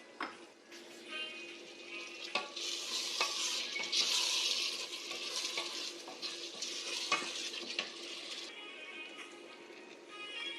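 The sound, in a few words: stirring tomato and potato frying in pan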